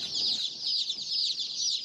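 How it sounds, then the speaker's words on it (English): A dense chorus of day-old chicks cheeping at a feed store, high-pitched peeps overlapping continuously, close and lively with no talking. "That is the sound of day-old chicks ready to be sold at Gordon's Feed in Phoenix."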